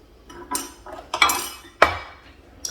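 A baking dish for homemade lasagna is lifted out and set down, with several clinks and knocks of glass or metal against the counter and utensils, close and fairly quiet.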